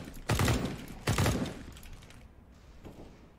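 Two loud bursts of automatic gunfire in a competitive online shooter, close and sharp, the second following about a second after the first, then fainter scattered shots as the action quiets.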